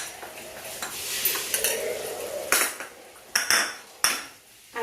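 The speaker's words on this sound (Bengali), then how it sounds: "এই মশলাগুলো দিয়ে আমি চিকেনের সাথে ভালোভাবে মশলাটাকে মিশিয়ে নিচ্ছি।" A metal spoon stirs spices into chicken in a pot, with sharp clinks and scrapes against the pot over a soft frying hiss, several distinct knocks near the end, close and without speech.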